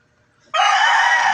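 A rooster crows loudly and close by in one sustained call that starts abruptly and fills the rest of the short clip, with no talking.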